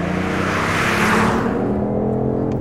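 The BMW i8 hybrid sports car drives by loudly, its broad whooshing engine and road roar swelling to a peak, then fading away as it moves off.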